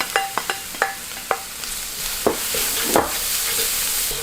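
Carrots and spices stir-fried in a pan for vegetable noodles: steady bright sizzling throughout, punctuated by sharp scraping and clinking taps of a utensil against the pan, close and fairly loud with no talking.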